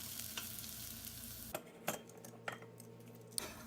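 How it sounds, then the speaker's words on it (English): White wine poured into a hot pan of caramelized garlic, carrots and celery for a pork loin sauce gives a loud frying hiss that drops off sharply, followed by scattered clinks and stirring scrapes. "Then you're going to deglaze with 2 cups of wine."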